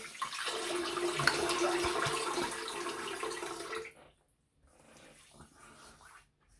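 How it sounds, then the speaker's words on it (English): Running tap water rinses a Kismet shavette razor, a steady close splashing rush for about four seconds, then silence and a fainter trickle afterward. "just going to do a quick rinse there"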